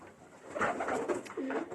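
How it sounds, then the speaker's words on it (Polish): Pigeons coo softly inside a pigeon loft at night, a few low, rolling throaty calls overlapping close by in otherwise quiet surroundings. "ja sobie tutaj gołąbki moje przeglądam"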